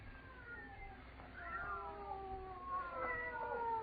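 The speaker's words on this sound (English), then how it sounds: "They're not ordinary cats. Listen to them." Two cats meow and caterwaul in a very quiet house at night, drawn-out wavering cries that come faintly at first, then louder and overlapping toward the end.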